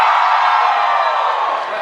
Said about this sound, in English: Scream if you love Zaxby's.